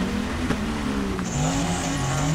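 A Lexus LX 450 engine revs loud and steady in the Spintires MudRunner off-road driving game, its pitch climbing and holding with a continuous droning roar and no voices over it.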